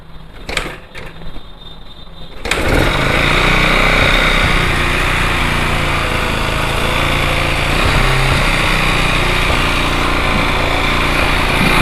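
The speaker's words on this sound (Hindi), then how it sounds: "तो इसे स्टार्ट करके देख लेते हैं इसकी गाड़ी की क्या कंडीशन है और इंजन ने कैसा साउंड कर रहा है।" Yamaha Gladiator SS125 motorcycle engine, freshly repaired, catches after a few sputtering cranks and settles into a loud, steady, slightly high-revving run close by.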